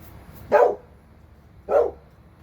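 A guard dog on a farm with donkeys barks twice at the garbage man, two loud, close woofs about a second apart, with nothing else but a low background hum.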